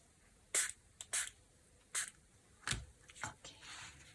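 Spray bottle misting onto recycled packaging ephemera for junk journal crafting, a series of short sharp close hisses in an uneven rhythm, about six or seven bursts, with light paper rustling between them.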